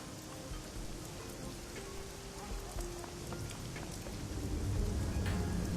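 Steady rainfall patters throughout a rainy scene in the video game Shadowrun Hong Kong, a dense continuous wash with scattered droplet ticks, swelling slightly toward the end, no voices.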